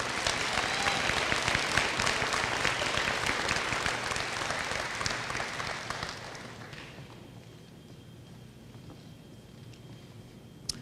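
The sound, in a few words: audience applause for graduating students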